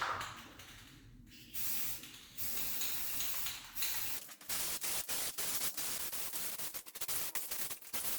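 A spray paint can coats a lamp gold, with a steady hiss that starts and stops in short bursts, then a run of quick sprays broken by brief pauses, close and fairly loud.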